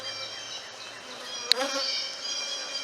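Honeybees buzzing around an opened hive during a colony split, a close steady hum of many wings with one sharp click near the middle, no talking.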